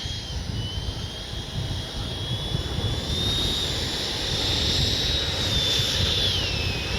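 Freewing F-22 90mm electric ducted-fan RC jet flying overhead, a steady high-pitched whine with a broad rushing roar that slowly swells and shifts in pitch as it passes, heard alone without talk.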